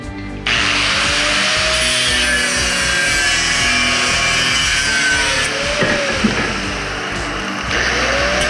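Power tool cutting through rusty, bolted-together junk metal pieces on a workbench, a loud steady grinding whine running continuously with slight shifts in pitch as the blade bites.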